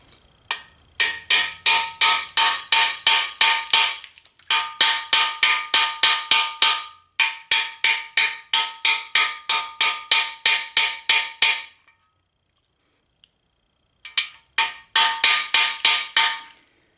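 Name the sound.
hammer driving a freeze plug into an engine block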